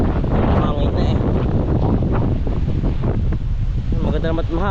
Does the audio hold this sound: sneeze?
no